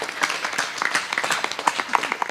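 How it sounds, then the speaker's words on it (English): Applause from an audience at a Bhagwat Katha Yagna gathering celebrating a 70th birthday, a steady patter of many hands clapping at moderate volume, with no talk over it. "Let's give him a big round of applause."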